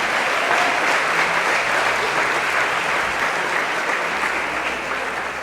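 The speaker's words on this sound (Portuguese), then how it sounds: "Você pode aplaudir e glorificar o nome do Senhor Jesus?" A church congregation applauding in praise, a loud, dense, continuous roar of clapping from a large crowd that holds steady and eases slightly at the end.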